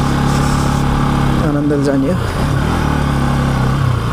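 A motorcycle rides along a gravel road with a loud, steady engine drone and a brief shift in pitch midway, while a rider speaks over the noise.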